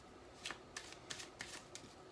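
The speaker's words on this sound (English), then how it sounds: "my favorite one is called the slip shuffle." Playing cards are slip-shuffled in four or five quick, faint riffling strokes evenly spaced a few tenths of a second apart, close and alone.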